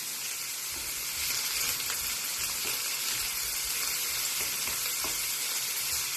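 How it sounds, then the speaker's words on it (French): Onions for a gratin dauphinois cook slowly in a pan over low heat, giving a steady, soft, continuous sizzle with faint crackles and occasional stirring. "je vais cuire les oignons en premier, petit à petit, avec un feu doux"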